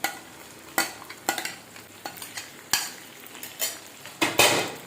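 A spoon stirs and scrapes stuffed brinjal (gutti vankaya) paneer curry with masala in a pan, sounding as irregular close clinks and scrapes over a soft, steady sizzle, with no talking.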